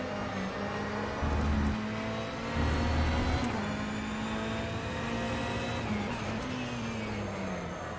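An LMP2 prototype race car's engine drones steadily in rFactor 2 while the car drifts, the revs holding and shifting with brief low surges and a faint tire whine.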